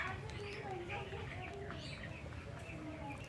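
Poultry-farm chickens recovering from gout make soft chirps and coos within a constant murmur of the flock, fairly quiet and steady throughout.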